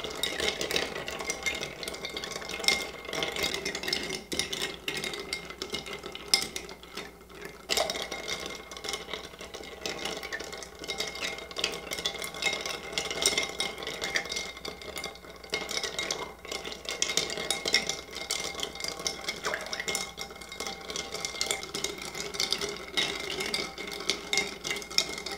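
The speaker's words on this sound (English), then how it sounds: "we want to stir because all of our ingredients are clear, and we want to stir it a nice long time to get it chilled" Ice clatters steadily inside a mixing vessel as a clear cocktail is stirred to chill it, a continuous close rattling swirl that runs without a pause for about twenty-five seconds, with no voices.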